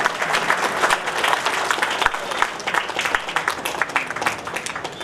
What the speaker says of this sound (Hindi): कृपया तालियों से उत्साहवर्धन करते हैं।